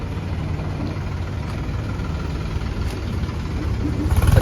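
A tractor engine idles steadily at a dealer's yard, a low continuous throbbing rumble with even vibration, close and moderately loud with no talk.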